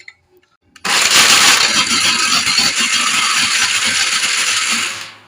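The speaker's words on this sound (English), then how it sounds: "And then I blend." A kitchen blender grinding tiger nuts with water kicks on after a short quiet moment, then runs as a loud, steady, gritty whir for several seconds before winding down.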